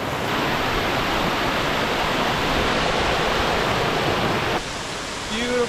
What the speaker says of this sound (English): People love their waterfalls.